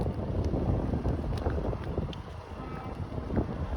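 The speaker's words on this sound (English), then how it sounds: "that wind is really hard on the face" Gusty wind buffets the microphone beside a busy highway in Etobicoke, Toronto, a rough, low roar that rises and falls in loud bursts with no one speaking.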